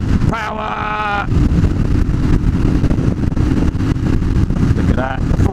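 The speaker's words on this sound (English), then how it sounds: "Look at that, full throttle acceleration, and I'm in top gear" A Honda CB250RS motorcycle accelerates at full throttle in top gear, a loud engine drone under heavy wind buffeting from the riding microphone, with a brief voice near the start and end.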